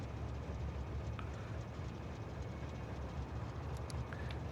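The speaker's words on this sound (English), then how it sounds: "Train, come and get me." A train in Factorio rolls in with a steady, moderate low rumble of rolling wheels and a few faint high chimes, with no talk.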